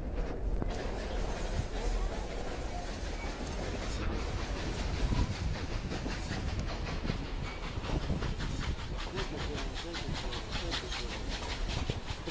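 The Durango and Silverton steam train rolls past with a steady rumbling roar and hiss, and a faint rhythmic pulsing grows clearer toward the end, heard from fairly close without talk.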